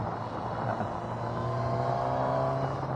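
A 2020 Suzuki Katana motorcycle engine drones steadily up close, a deep throaty hum with a constant pitch and no pauses.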